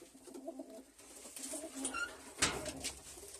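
Soft pigeon coos inside a backyard coop, several faint low murmuring calls with a brief flutter of wings.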